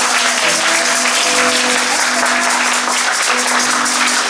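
An audience at a live music gathering in a small bar breaks into loud, continuous applause, with a held musical tone ringing underneath the dense clapping.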